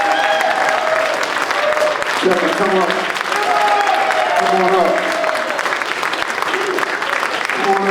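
A crowd at a 2023 POPLI civil rights restoration event claps loudly and steadily to welcome Brother Kevin Reese, while a man calls out to him over the sustained applause.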